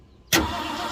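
A 1967 Ford Galaxie, long abandoned in a cow house, is cranked with fuel poured into the carburetor bowl: a sudden loud crank burst after brief quiet, then a sustained engine churn close by.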